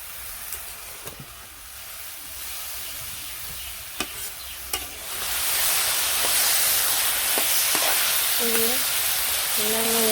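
Green chilies fry with bottle gourd in a pan, starting with a few sharp taps and clinks over low hiss, then a loud steady sizzle swells up and continues, close to the listener.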